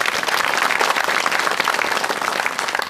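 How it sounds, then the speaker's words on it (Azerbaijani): Studio audience at a comedy show applauds the musicians, a loud, dense wash of clapping sustained evenly from start to finish. "Onlar üçün ilk növbədə bir alqış istəyirəm."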